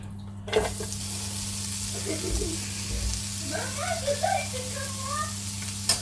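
Onions fry in a pan with a soft continuous sizzle and occasional stirring, under a steady low electrical hum, with faint muffled voices in the background.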